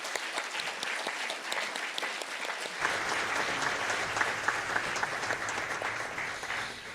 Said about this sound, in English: May we please give the Brahma Kumaris an incredible round of applause.